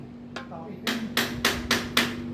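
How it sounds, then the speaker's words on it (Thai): Drilling a hole in a wall while installing a TCL 9000 BTU R32 home air conditioner, heard as five loud, sharp hammering impacts in even rhythm, close by, after a faint tap and a steady hum. "เจาะสี่หุ่น"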